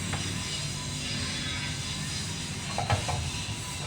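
Gas leaks from a burning tank, with a steady, moderately loud hiss running throughout and a few faint bumps near the end.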